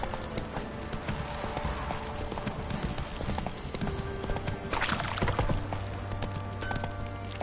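Steady clip-clop of horse hooves at a walking pace in the video game The Witcher 3, close and continuous, with a faint whinny and background ambience.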